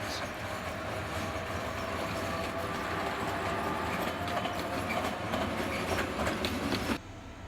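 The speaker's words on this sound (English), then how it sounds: "here we see a dual voltage class 350, number 17, leaving for Zelina" A dual-voltage Class 350 electric locomotive pulls a train out of a station at Bratislava, wheels clattering steadily and loudly for several seconds before the noise drops suddenly near the end.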